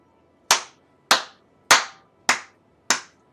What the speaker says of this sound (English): Round of applause for that comment.